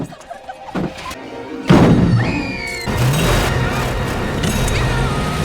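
Knocking and banging on a car in a horror film scene, a few hard thumps and a loud crash followed by sustained rumbling clatter and scraping, with voices mixed in.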